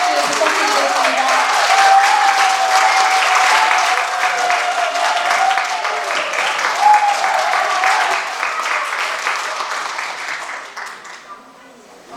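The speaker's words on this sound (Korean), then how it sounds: "힘찬 환영의 박수 부탁드리겠습니다." An audience at a neighbourhood citizens' town-hall meeting gives sustained, dense applause welcoming an arriving guest, the clapping staying strong for most of the stretch before thinning out toward the end.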